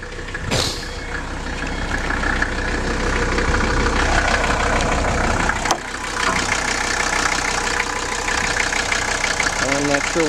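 A car engine idles at close range, a steady low rumble that stumbles slightly while cold, with someone talking over it.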